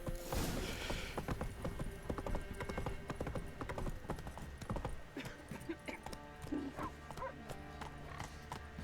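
Horse hooves clip-clop at a walk in The Witcher 3 on PC, a quiet, steady rhythmic clatter of hoofbeats with a few scattered faint game sounds and no talk.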